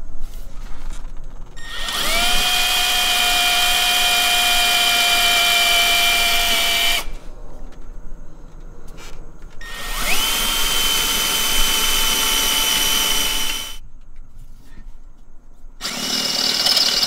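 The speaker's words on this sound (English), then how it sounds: "The next thing I'm gonna do is drill a little pilot hole." A Harbor Freight power drill whines steadily drilling a pilot hole through car body metal in long bursts, pitch rising as it spins up, with brief pauses between runs.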